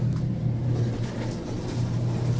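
A Westinghouse traction elevator modded by Schindler, running inside a condominium, gives off a steady low motor hum with a soft rumble through a nonstop ride.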